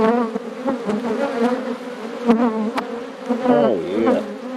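Honeybees buzzing loudly and continuously from a freshly opened hive, a dense close drone with wavering pitch.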